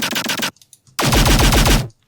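A deathstep track built in FL Studio hits with a layered bass impact, a loud, dense stuttering burst, then a longer heavy bass blast with a rapid machine-gun-like pulse.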